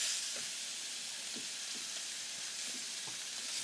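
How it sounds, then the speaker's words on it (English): Picanha steaks sear on a Ninja Woodfire Grill with a steady, soft sizzle and hiss, while faint scattered pops and crackles break through now and then. "we're gonna let them sear for another minute"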